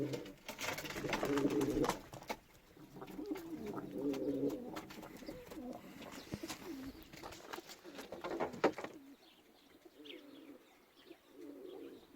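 Soft, low pigeon coos repeat in several throaty phrases close by, with a few light chirps and rustles between them, then quieter near the end.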